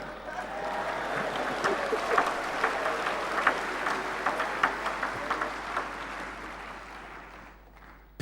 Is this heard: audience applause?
yes